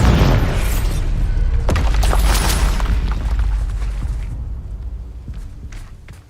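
Explosion from the Bombarda spell in the game Hogwarts Legacy, a heavy, booming blast with crackling debris that rumbles on and slowly fades over several seconds.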